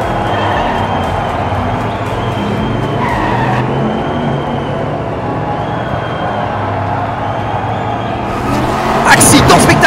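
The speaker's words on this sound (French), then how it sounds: "c'est un drift sévère là" Diecast toy race cars drift and skid through a miniature race, a steady wash of tire squeal and rolling noise under an announcer's excited commentary, swelling briefly louder near the end.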